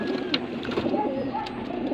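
Racing pigeons coo and call at a club training toss near Naga, Camarines Sur, a steady soft murmur of birds close by amid outdoor ambience, with no clear speech.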